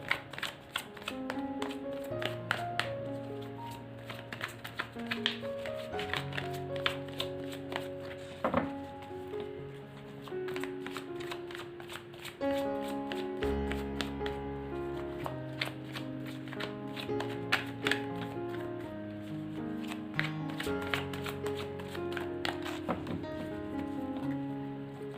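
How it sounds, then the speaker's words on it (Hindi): Tarot cards are shuffled by hand over a soft, quiet music bed, giving repeated brisk papery riffles and taps in uneven bursts that continue throughout. "सो मैं लाइव शफल करने वाली हूँ, तो थोड़ा पेशेंस रखिएगा"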